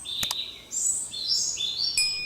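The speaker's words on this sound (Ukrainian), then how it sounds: "Пташки співають, красота, ляпотень" Birds chirping and tweeting in a quiet forest in the Carpathian mountains: a few short high calls, then a run of bright, sliding song phrases, fairly close.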